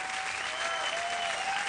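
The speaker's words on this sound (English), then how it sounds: "And the crowd goes crazy." Studio audience applause on a TV talk show, a dense, steady wash of clapping from a crowd that stays loud and even throughout the short stretch, with no voices over it.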